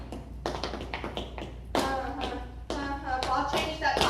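Tap dancer's metal-tipped shoes rattling through quick shuffles and ball changes in a teen tap routine, crisp sharp taps in bursts ending with a clap, close and clear.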